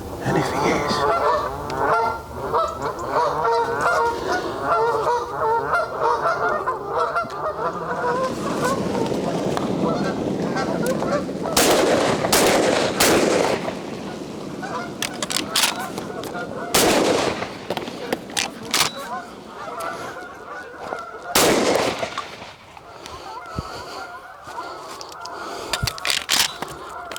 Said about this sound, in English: the geese are pushing away now from this edge